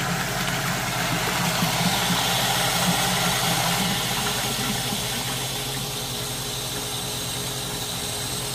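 A Vevor 115-volt, 24-gallon-per-minute well pump runs steadily, a continuous motor hum blended with rushing water flow, close and even throughout with no pauses.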